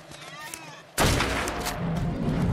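A gunshot in ARK: Survival Evolved rings out sharply at once, followed by a dense, sustained roar of rumbling battle noise.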